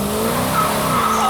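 Plum Crazy purple Dodge Challenger being floored, a loud sustained engine roar climbing in pitch throughout, heard from inside the car with no talking.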